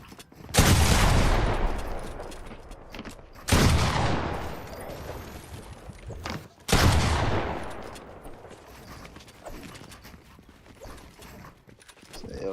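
Bursts of gunfire in an online shooter game: three loud broadband volleys, each sharp onset trailing off over a few seconds, spaced about three seconds apart, with quieter crackling between.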